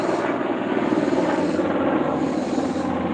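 Helicopter flying overhead, a loud steady broadband engine and rotor roar that holds constant throughout with no talk over it.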